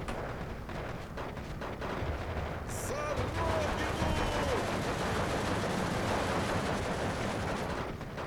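Dense, continuous battlefield gunfire from a 75mm anti-tank gun in the WWII strategy game Steel Division 2, with steady heavy booms and crackling shots layered over constant background fighting throughout.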